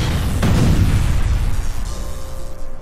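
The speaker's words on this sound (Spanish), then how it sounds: "Una gran explosión seguida por décimas de segundo de otras 2." A large blast erupts in a desert battle, a sudden deep boom rolling into a long, heavy low rumble that slowly fades, loud and alone.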